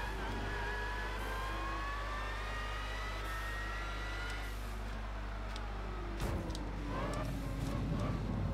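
Race cars in Gran Turismo 6 drive the Nürburgring in wet conditions, with engines droning steadily and rising and falling in pitch, and a louder car sweeps close by near the end.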